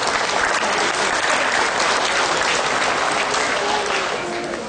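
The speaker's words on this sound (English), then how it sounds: "I think we should give a round of applause for the breeders of these cattle." Crowd applause at the St. Mary's cattle show, part of the Ontario Summer Show, for the cattle breeders: dense, steady clapping from many hands that holds for the whole stretch and eases only slightly near the end.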